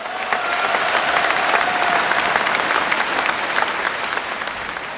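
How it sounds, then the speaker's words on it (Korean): Warm, sustained applause from a large audience at a presidential nomination acceptance speech, a steady dense wash of clapping close and loud throughout, with no voices over it. "여러분 따뜻한 격려의 박수를 부탁드립니다"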